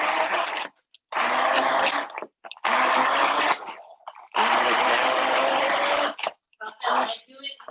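A kitchen blender whirs in several loud bursts with short pauses between them, pureeing a leafy sauce. The jar gets shaken between pulses, and a voice talks over the motor.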